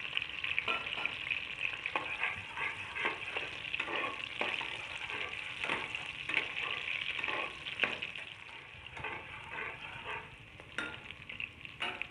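Chopped green chilies and onion fry in hot oil, a continuous loud sizzle with repeated scraping strokes of a stirring spoon against the pan, no voices.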